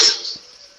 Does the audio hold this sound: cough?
yes